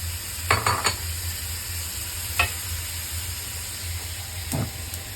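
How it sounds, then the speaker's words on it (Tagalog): Lotus root is stir-fried in a pan, giving a soft steady sizzle with a few short bursts of stirring and clatter, fairly quiet with no talking. "咁樣就加埋啲蓮藕落去，就爆下先"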